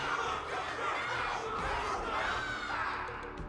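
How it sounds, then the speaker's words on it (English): A crowd cheers and shouts in the Honkai Star Rail video game, a dense wall of many voices that stays loud and steady throughout. "Can't you hear? Everyone's cheering for you"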